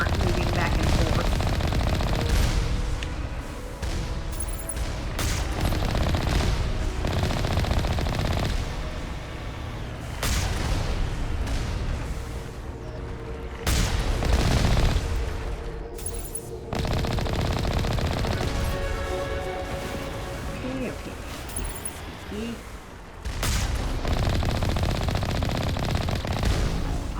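Turrets fire in the Mass Effect Legendary Edition game, loud sustained bursts of rapid gunfire and heavy blasts that keep rolling with brief lulls, dense and close throughout.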